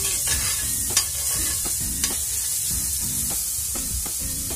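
Garlic sautés in hot oil for spicy eggplant, a close, even sizzle punctuated by repeated spatula scrapes and a couple of sharper knocks against the pan.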